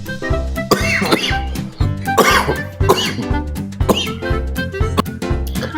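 A person coughs from campfire smoke, repeatedly and harshly close by, a string of rough coughs and throat clearing with barely a pause between them.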